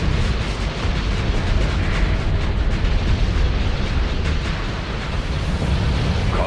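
Starsector space battle with torpedo explosions rumbling continuously, a dense, loud low-end barrage of booms and bursts with no pauses and no speech over it.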